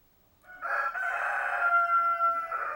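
A chicken squawks loudly and continuously at night as a leopard cat attacks it inside a farm greenhouse, the shrill, strained call sustained for over two seconds with no other sound.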